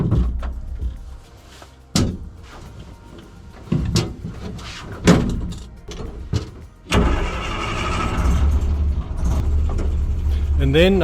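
A restored 1955 Land Rover: scattered clunks and thumps of doors and handling, then the engine kicks in and settles into a loud, steady rumbling drone, with a voice briefly heard.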